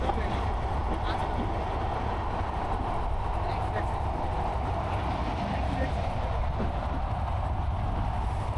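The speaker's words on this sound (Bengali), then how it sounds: "পদ্মা সেতুর নিচ দিয়ে ট্রেন যাচ্ছে" A train rolls along beneath the Padma Bridge, heard as a steady, continuous rumble mixed with broad outdoor noise, moderately loud and unbroken throughout with no clear clatter peaks.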